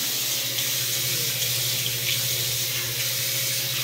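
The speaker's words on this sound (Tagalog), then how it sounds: "Yung shower guys." A shower runs in a guest bathroom with its heater set to the lowest level, making a continuous close hiss of falling water over a faint low hum, with no talking.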